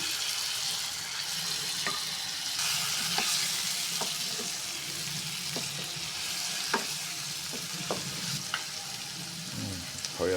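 Curry paste for an Assamese mutton curry frying in a pot before the meat goes in, a continuous soft sizzle broken by sharp stirring taps and scrapes, no talking.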